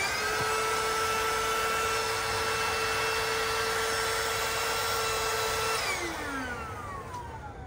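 An electric pump whines steadily and loudly, inflating pillows for a camper setup in the bed of a Ford F-150 Lightning pickup, then its pitch drops as the air is let out toward the end.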